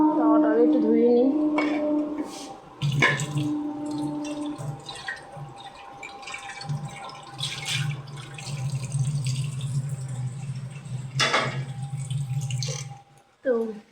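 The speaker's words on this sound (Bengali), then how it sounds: "তাওয়াটা আগে একটু ধুয়ে নিই।" A tawa pan rinsed under a running kitchen tap, steady close water flow splashing on the metal with brief clinks and drips, a voice talking at the start.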